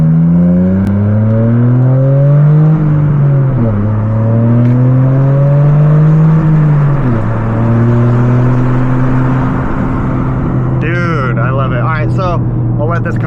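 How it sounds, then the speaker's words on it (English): A Toyota GR Corolla's three-cylinder engine revs loud and close inside the car, rising and falling in pitch through several sweeps before settling, with a brief burst of other noise near the end. "for a 3-cylinder, this thing sounds nuts"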